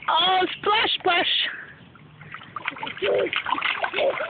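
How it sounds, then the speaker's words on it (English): Water splashing in a crab-shaped kiddie splash pool, with small slaps and sloshes heard close under an adult's animated talk that runs through much of the clip. "Oh, splash, splash."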